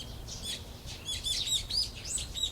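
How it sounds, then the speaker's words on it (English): Morning birdsong in the Higurashi video game: several quick, bright chirps and tweets repeat in clusters over a faint, soft background hiss. "The chirping of birds served as my alarm clock."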